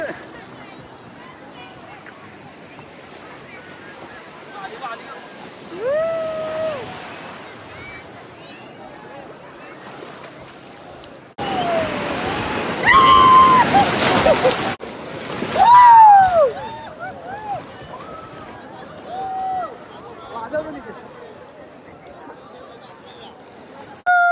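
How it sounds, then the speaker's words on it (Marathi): Ocean waves at Kashid beach near Alibag wash and break, swelling into a louder crash partway through, with people talking and calling out over the surf throughout. "लाटा बघ."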